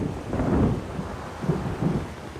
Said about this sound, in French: le navire est pris dans la tempête